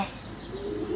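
Racing pigeons in a loft give a short, low, steady coo that swells toward the end, heard close and alone.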